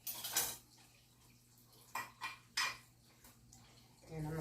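Spaghetti squash being scraped out with a utensil gives a few sharp scraping and clinking strokes against the shell, separated by quiet pauses, close and fairly faint.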